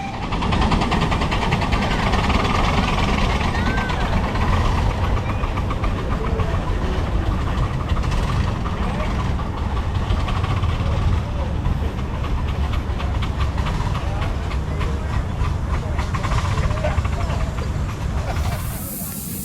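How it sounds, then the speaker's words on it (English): Three small-scale live steam locomotives working together as a triple-header on a mountain grade at a Los Angeles Live Steamers spring meet, with wheel slip; a loud, continuous rush of chuffing steam and hiss that stays steady throughout. "Listen carefully for the wheel slip"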